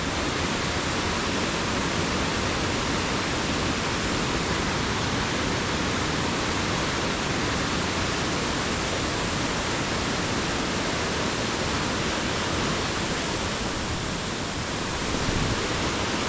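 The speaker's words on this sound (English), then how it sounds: "that stream is just... Whoa. Rapids." Rushing stream rapids on a hiking trail, a loud, unbroken close roar of churning water that holds steady throughout with no voices.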